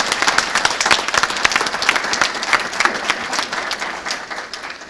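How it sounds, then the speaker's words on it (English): Audience applauding at a county workforce readiness certification award ceremony, dense steady clapping from a sizable crowd throughout, loud and close with no speech over it. "these guys deserve a huge round of applause"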